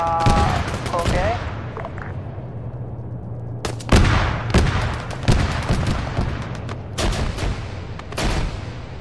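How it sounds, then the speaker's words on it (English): Grenade machine gun fire in Arma 3, heavy bursts of thumping shots and booms in irregular clusters, loud and close, with speech faintly present amid the combat. "Putting GMG rounds up here."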